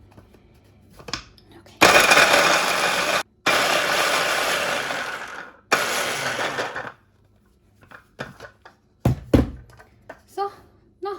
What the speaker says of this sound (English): Let me teach you a quick way to grind the ginger. Use a mixer.